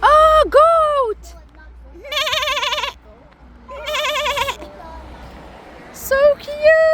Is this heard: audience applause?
no